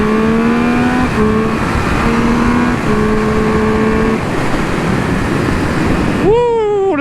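A Triumph Speed Triple 1200 RR motorcycle under way, its engine holding a steady tone with brief gear-change breaks under heavy wind rush, then a sharp rising rev near the end.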